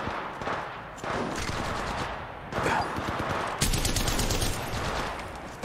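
Gunfire in the Apex Legends Mobile video game comes as dense, rapid bursts of shots, some sounding like automatic weapons, in loud repeated volleys throughout.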